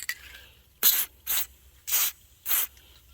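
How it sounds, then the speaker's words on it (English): Four short aerosol bursts of white lithium grease sprayed onto a stiff car hood latch mechanism, evenly spaced, close and fairly loud, with quiet garage background between the hisses. "white lithium protective grease. We'll spray a little bit of that."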